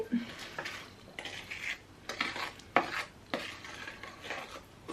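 Chocolate batter being mixed in a bowl by hand, with close scraping and clinking of a utensil against the bowl in repeated uneven strokes, fairly quiet and with no talking.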